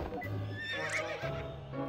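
A horse in the video game To the Moon neighs and whinnies with a shrill, rising and falling call, heard alongside clip-clopping hooves and game sounds, fairly close and without speech.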